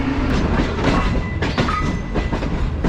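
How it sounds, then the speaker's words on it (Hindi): Green Line Express train rolling on rails as it approaches Khanewal Junction at night, a steady rumble with clickety-clack rhythm, heard from inside a parlour car with no talking. "6 down green line express approach बना रही है खानेवाल जंक्शन पे"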